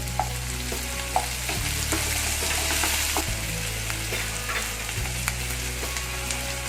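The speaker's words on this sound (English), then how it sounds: "Then goes the babycorn. While this is sauteing, add little garlic and chili as well." Baby corn sautés in a hot pan with a continuous, fairly loud sizzle and frying crackle, a few scattered stirring clicks and low background hum, with no voices.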